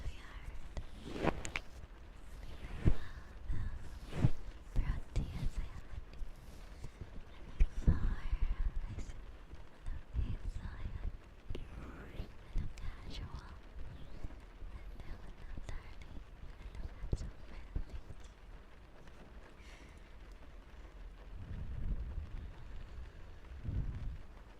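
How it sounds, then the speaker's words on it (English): Soft rain ambience for ASMR plays steadily in the background with occasional low thunder-like rumbles, under quiet whispering. "I think the rain sounds are a little loud, right?"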